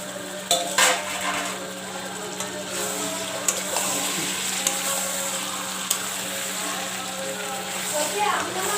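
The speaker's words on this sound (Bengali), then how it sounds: "এবার আমি চিকেনটা দিচ্ছি।" Chicken for a hotel-style biryani goes into the pan with a soft sizzle, punctuated by a few clanks of a spoon or ladle against metal, steady background hum beneath, and a voice speaking briefly.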